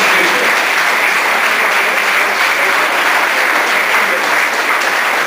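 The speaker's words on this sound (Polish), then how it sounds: "Duże brawa, proszę Państwa." A gala audience at the 2011 Perły Kaszub awards gives loud, dense applause for a young chess player who finished fifth at a world championship. The clapping is a continuous, even roar that fills the whole clip.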